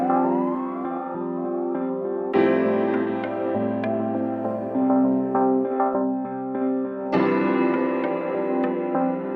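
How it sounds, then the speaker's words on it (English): Sweeping synth tones glide under bold, hard-struck piano chords that hit in repeated bursts, loud and layered without any talking. "this like hard hitting chords of like piano that sound really cool."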